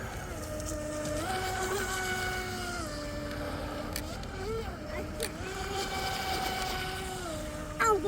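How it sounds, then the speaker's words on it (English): A DeeRC 816 brushless RC boat motor runs continuously with a high whine that rises and falls in pitch as the throttle and steering change, over water and background noise. "I'm noticing when you hit the steering, the motor actually slows down."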